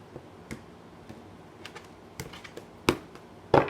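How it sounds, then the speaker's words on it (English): Tarot cards are shuffled in a quiet room, a series of soft, sparse taps and riffles that build to a few sharper, louder snaps near the end. "Final shuffle."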